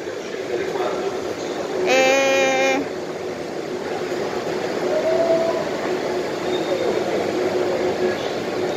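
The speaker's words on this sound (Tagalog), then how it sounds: "Italian train to." An Italo high-speed train at Bologna station sounds a loud whistle for about a second, a brief bright blast over station hum and rolling noise, with people talking nearby.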